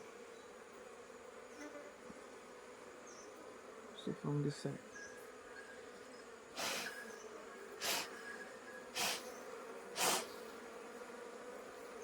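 Honeybees inside a beehive give off a steady, low buzzing hum. A few short, louder bursts of movement rise above it, and a voice speaks briefly.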